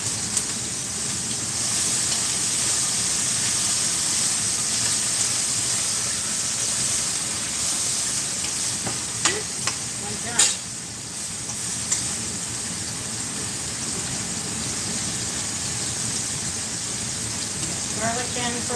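Minced garlic sizzles in a hot pan of blistered green beans, a steady broadband hiss running throughout with a few sharper crackles and pops near the end, no talking.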